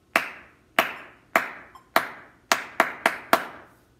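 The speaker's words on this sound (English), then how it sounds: "So I put the metronome on and clap that rhythm slowly." Hands clap a slow rhythm against a metronome set to 52, eight sharp, close claps unevenly spaced, with a faint metronome click between them and no voices.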